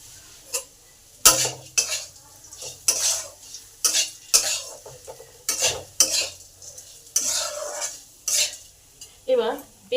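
A spoon stirs papaya into ginger frying in a pan, giving sharp, irregular scrapes and clanks over a faint sizzle, close and fairly loud.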